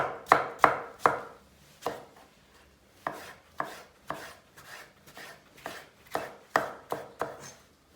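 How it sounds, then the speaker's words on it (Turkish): Knife chopping onions on a cutting board, a steady series of sharp, close thuds in uneven bursts, with no voices. "Soğanları fazla iri doğramıyorum"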